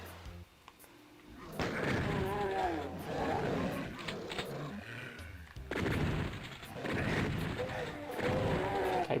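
Gunfire in the video game Doom 2 comes from behind the player, with bursts of shots mixed with growling monster roars and crashing game effects in two loud stretches.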